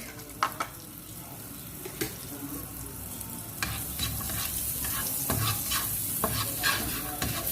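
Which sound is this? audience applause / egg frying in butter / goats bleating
egg frying in butter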